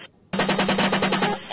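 A military gun opens fire in a sustained rapid burst during an engagement on men in a wadi, a loud, dense string of shots beginning abruptly after a brief quiet moment.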